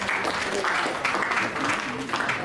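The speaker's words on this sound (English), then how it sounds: "I want you guys to give yourself a round of applause" Attendees at a policy dialogue clap in a continuous round of applause, a dense steady patter filling the room, moderately loud with voices audible beneath it.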